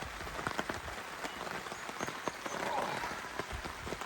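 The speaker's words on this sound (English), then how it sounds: "Well, the rain that was promised has happened. It's coming down pretty steady now." Steady rain falling on a lakeside campsite at Georgian Bay, a continuous close hiss of drops on surfaces with scattered sharper taps throughout.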